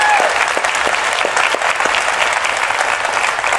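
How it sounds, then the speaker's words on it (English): Audience at the DEF CON 20 hacker conference giving a loud, sustained round of applause, dense clapping filling the hall without pause. "Let's give her a big round of applause for what she's done."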